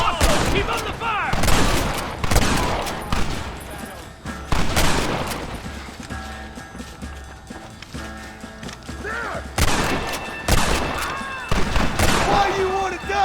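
Gunfire rings out in sharp volleys during a Red Dead Redemption chase, with horse hooves clip-clopping and a horse whinnying amid shouted voices and music.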